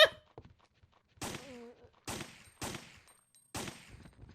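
Heavy gunshots in the survival-horror game Resident Evil 3 with the Overhaul Mod, five sharp separate blasts spaced about a second apart, close and punchy, with quiet gaps between them.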